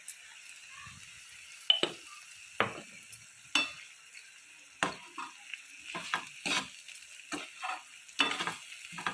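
Bitter gourd and masala sizzle steadily as they fry in a pan for a tamarind-style curry, with irregular scraping and clattering stirs cutting in near and clear, and no talking.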